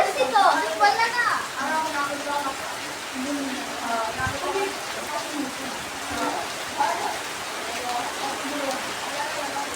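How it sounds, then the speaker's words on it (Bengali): Rain pours steadily during a storm, a dense, even hiss of drops on surfaces, with a child's and an adult's voices talking over it nearby. "দেখো বৃষ্টি পড়ছে, দেখো।"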